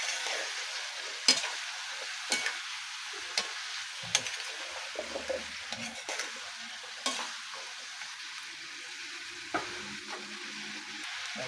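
A steady, loud sizzle rises from fish sautéed with squash in a pan as broth goes in, with a hiss that stays constant throughout and occasional clinks and scrapes from stirring.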